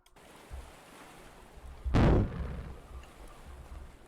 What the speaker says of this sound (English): you can hear the rockets that fired off